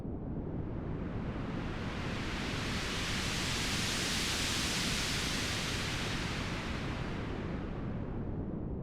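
Steady, bright rushing violet noise with a sweeping filter cutoff, swelling and fading gently like surf washing in and out. No voices.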